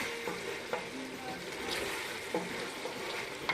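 Pork bun dough frying in a pan, a steady soft sizzle with occasional small pops and crackles throughout.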